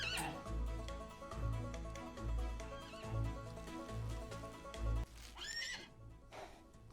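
Horses in a Wild West ranching video game, Outlaws of the Old West, whinny and neigh several times over a steady murmur and faint hoof clops, with a final high, trailing neigh near the end.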